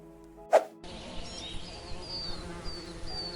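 Honey bees performing a waggle dance in the hive produce a continuous, close buzzing hum with faint whining tones, preceded by a brief sharp click.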